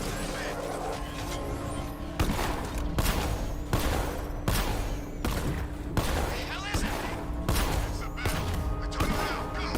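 Heavy tank guns and gunfire in the Batman game Arkham Knight, loud repeated booming blasts at irregular intervals over a dense, constant barrage of battle noise.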